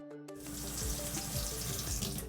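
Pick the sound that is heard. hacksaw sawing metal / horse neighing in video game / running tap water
running tap water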